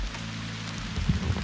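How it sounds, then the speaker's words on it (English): Heavy rain falls steadily outdoors on a misty, cloud-covered hillside, a continuous close hiss with a few louder drops pattering nearby. "It's begun to rain quite heavily."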